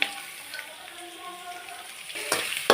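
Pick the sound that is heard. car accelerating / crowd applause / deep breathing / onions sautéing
onions sautéing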